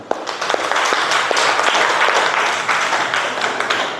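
A classroom of students at an Islamic junior secondary school applauds together after their presentations, with steady, dense clapping lasting a few seconds.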